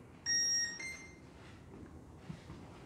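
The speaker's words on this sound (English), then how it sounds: "There's a single beep." An RC plane ESC for an E-flite Twin Otter V2 gives a single short electronic beep during programming, brief and fairly clear over faint background noise.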